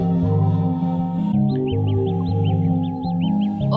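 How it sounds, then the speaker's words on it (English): Bird whistles chirp in a song, a run of short, bright, evenly repeated tweets riding over a steady low electronic drone and beat. "bird whistles."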